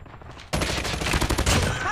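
Rapid submachine gun fire from a RUS-79U in Call of Duty Mobile erupts suddenly after a quiet start, then continues as loud, dense, continuous bursts.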